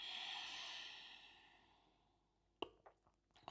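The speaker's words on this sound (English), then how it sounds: "Breathing in and exhaling." A person exhales in a long, breathy rush during a breathing exercise, loud at first and fading out over a couple of seconds, followed by a few soft clicks and rustles.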